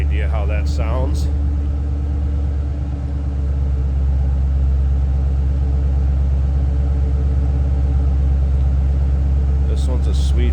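A 2006 Ford Mustang Saleen S281 coupe's supercharged V8 rumbles steadily at idle, loud and close, with a brief faint voice near the start.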